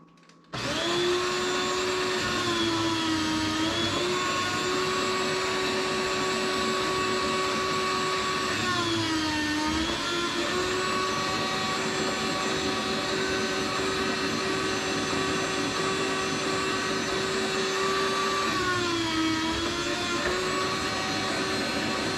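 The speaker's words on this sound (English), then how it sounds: "that makes really short work of cutting up a bunch of meat" A powerful electric meat-cutting machine whines at a constant pitch, dipping briefly twice as it bogs under load cutting meat, then recovering, running loud and close the whole time.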